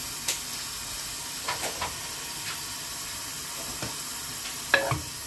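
Onions and panch phoron fry in oil for a fish curry, with a soft, continuous sizzle and a few light scrapes and clinks from stirring.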